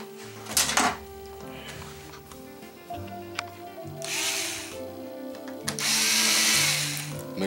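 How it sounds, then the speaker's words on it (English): A power drill backs screws out of small plastic brackets inside a 65-inch RCA LED TV in several short whirring bursts, with clicks and handling noises between them. "Take the screws off of each one of these."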